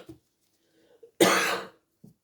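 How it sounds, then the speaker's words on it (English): A person lying awake and unable to sleep gives one sharp, loud cough. Fainter throat noises come just before it and just after it. "Every time I lay down I'm coughing"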